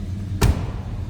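Car door of a 1968 Oldsmobile Cutlass S convertible closing, a single solid thud over a low background rumble.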